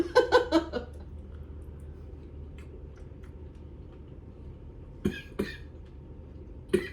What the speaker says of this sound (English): you gonna cough?